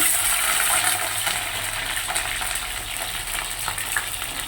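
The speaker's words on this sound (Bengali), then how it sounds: "সবার প্রথমে তো আলুগুলো ভেজে নিচ্ছে বললে দেখো" Potatoes frying in oil in a pan for a Bengali aloo dum, a steady close sizzle with faint stirring clinks throughout and no talking.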